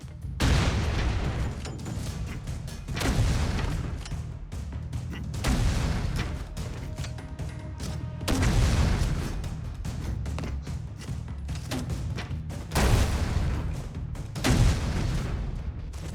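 Repeated bomb-flip explosions in the Broforce video game, a series of heavy booms arriving every couple of seconds, each a loud thudding blast with a short rumbling tail, with no talk over them.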